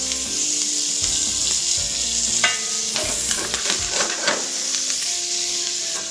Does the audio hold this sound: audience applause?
no